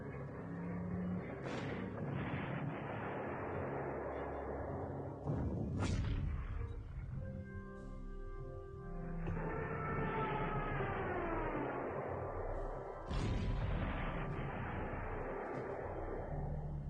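An 88 gun fires in the Panzer Corps strategy game on the streets of Moscow, heavy booming shots landing every few seconds with wailing, siren-like tones and sustained rumble filling the gaps between them.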